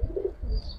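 A Giribaz pigeon at a loft gives a short, low, close coo, one soft throaty call lasting under a second.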